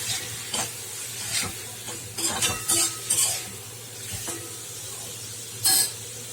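Spice powders with turmeric sizzling in a pan for a prawn dish under a steady hiss, with a spoon scraping and stirring in several distinct strokes and occasional clinks.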